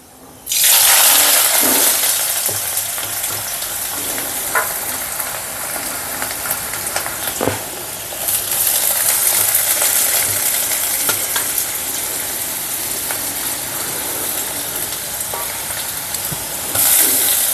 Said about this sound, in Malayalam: അത് നമുക്കൊന്ന് പിഴിഞ്ഞ് എണ്ണയിലോട്ടിട്ട് കൊടുക്കാം